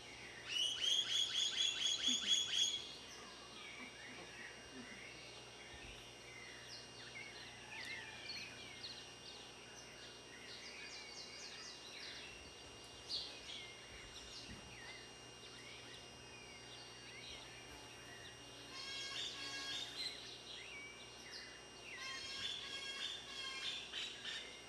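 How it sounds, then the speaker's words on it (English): Birds sing and call by Lake Chapala: a loud burst of rapid, repeated chirps opens, then scattered calls and squawks drift over a soft, steady outdoor hum, with another flurry of quick calls near the end. "be still and listen to the birds"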